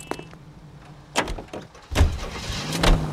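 A car in L.A. Noire, heard as a couple of dull door-like thumps and an engine starting, all fairly close and moderately loud with no talking.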